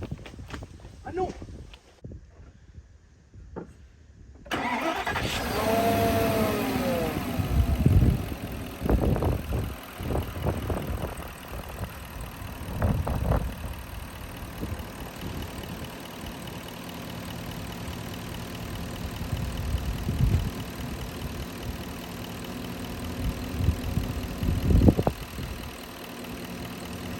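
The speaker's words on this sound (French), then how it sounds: "Ah, c'est moteur tournant?" A Porsche Cayenne engine cranks and catches after a few seconds, then idles steadily with a whirring tone, under intermittent talking, clunks and movement nearby.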